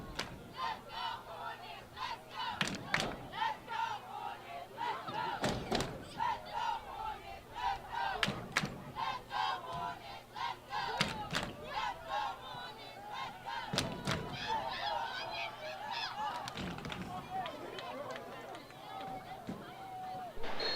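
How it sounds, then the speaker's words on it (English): Spectators cheer and shout at a high school homecoming football game between Crossland and Fairmont Heights, a loud, sustained crowd roar with rhythmic thumps and chanting swells throughout. "The crowd is getting hyped for Fairmont to turn this drive into 6."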